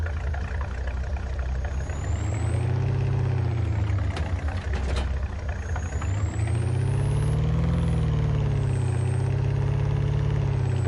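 Steady low rumble of a pickup truck engine in Farming Simulator 25, idling and shifting slightly in pitch as it runs continuously, with a brief hiss midway and no talking.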